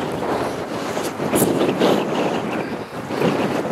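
Strong wind buffets the microphone while powerful sea waves surge and crash against a coast beside a World War II pillbox, loud, continuous and close, with no voices.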